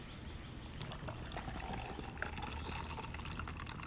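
Water pours steadily and fills a container in a home craft space, a continuous soft trickling and splashing that runs evenly throughout without any talk.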